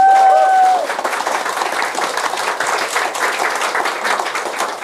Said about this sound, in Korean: 기대되시죠? 박수 부탁드립니다.